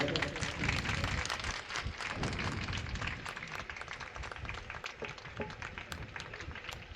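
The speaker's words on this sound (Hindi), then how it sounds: "और स्वागत में सभी लोग तालियां बजाते रहे।" Audience clapping in welcome at a felicitation gathering in Sitapur, a dense, steady patter of many hands continuing throughout at moderate distance, with no clear voices over it.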